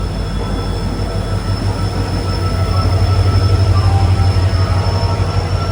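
Loud, close rumble of a train at a station with steady rolling wheel noise and a low mechanical drone, growing slightly stronger, no voices.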